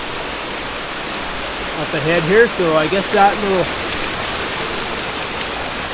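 Steady broadband rush of a waterfall inside a cave with light-shaded rock, continuous and even throughout, with someone talking over it midway.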